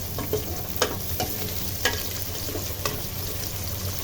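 Onions frying in a pan for Filipino pork mechado, a steady soft sizzle with occasional spoon scrapes and stirring knocks, close and continuous without talk.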